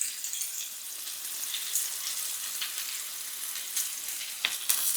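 Leek browning against the side of a pan for a Japanese yakitori donburi dinner, a steady soft sizzle with faint crackles running throughout, moderately close and without talk.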